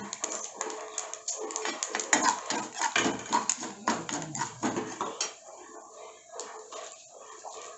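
Dal and fenugreek powder being sautéed in a pan: close, irregular clinks and scrapes of a spoon against metal, busy at first and then thinning out.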